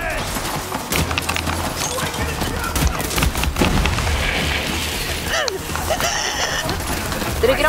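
Gunfire in the video game Borderlands 3 rattles in dense, loud bursts alongside crashing and shattering impacts, continuous and close throughout.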